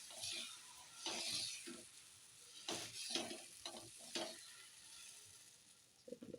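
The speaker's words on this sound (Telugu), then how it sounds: "చూడండి ఫ్రెండ్స్, దోశ ఎలా వేస్తున్నాను." Dosa batter sizzles quietly on a hot pan, a soft continuous frying hiss broken by a few louder scraping bursts as it is spread.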